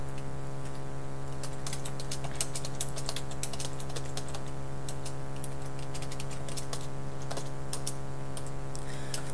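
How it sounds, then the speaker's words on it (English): Fast, steady typing on a computer keyboard, dense clicking keystrokes close by over a constant low electrical hum, with no talking. "And now pretty much, whatever I type"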